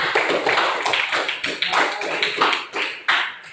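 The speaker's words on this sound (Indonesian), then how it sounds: "Iya betul, tepuk tangan untuk Zikri." Students in an Islamic religious education class clapping for a classmate, a close, uneven patter of hand claps in quick bursts with small pauses between them.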